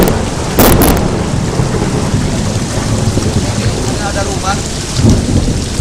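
Heavy rain pours down in a dense, loud, continuous hiss, with thunder rumbling and a few sharp bursts, while a brief spoken word comes through.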